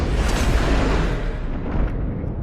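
A gunshot in Red Dead Redemption 2 rings out as a deep, rumbling boom that fills the whole moment and then slowly fades, with no talking.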